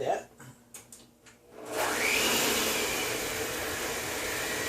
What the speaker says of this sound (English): just use a stand mixer there and beat that